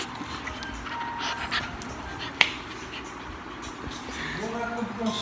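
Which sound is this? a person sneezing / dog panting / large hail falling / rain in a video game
dog panting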